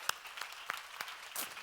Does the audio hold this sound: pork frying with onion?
no